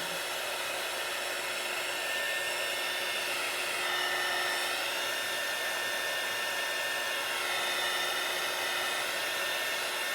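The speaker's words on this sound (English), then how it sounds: "I'm just going to hit this a little bit more with the heat gun." Heat gun blowing hot air over wax on dried flowers, a loud, constant whooshing roar that holds steady and close for the whole stretch with no voices.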